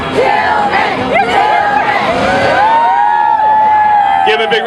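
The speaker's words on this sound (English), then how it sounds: "We need a little Tillman chant going on here." A Rose Parade crowd chants for Tillman, the surfing dog, with loud, close voices shouting and whooping in a rhythmic chorus over crowd noise.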